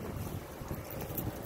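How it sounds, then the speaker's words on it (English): Wind gusting outdoors, a low continuous rumble buffeting the microphone, faint and steady throughout with no other distinct sounds. "It's a little windy."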